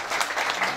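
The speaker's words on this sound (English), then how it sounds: "Could you please give a round of applause to all our judges?" Audience applause at a limerick competition final, a brief burst of dense, even clapping from many hands in a room.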